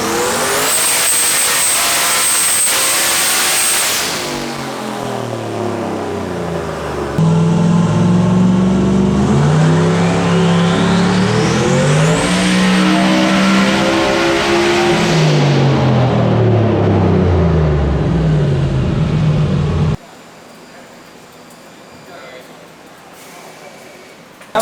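A boosted drag car makes a full-throttle pull at the drag strip, its engine roaring loud and close as it climbs steadily through the revs, then cutting off abruptly.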